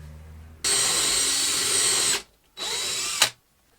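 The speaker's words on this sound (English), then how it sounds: "I shall drill here" A power drill with a Forstner bit bores into wood while a stool is being built: two close, loud whirring bursts, a long one and then a shorter one, with silence between them.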